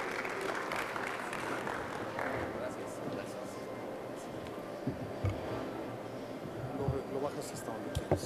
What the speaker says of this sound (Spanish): su gran asistente, que es Socorro Sánchez, para quien yo pido un aplauso